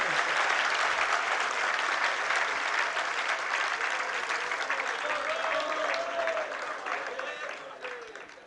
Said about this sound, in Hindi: अब यहाँ पर बैठे बैठे कवि लोग भी ताली बजा रहे हैं।